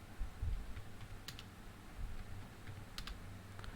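Someone types on a computer keyboard, entering a password into a running Python program: quiet, scattered key clicks in small clusters over a faint low background hum.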